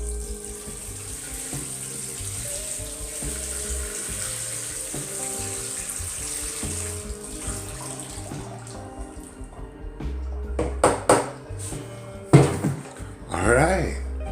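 Running water pours and splashes steadily over background music while a potted Pachira aquatica is watered, with a few louder sloshing bursts near the end.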